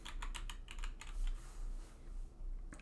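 Keys on a computer keyboard are tapped in quick bursts of clicks, close and fairly quiet, with a short pause before a final keystroke.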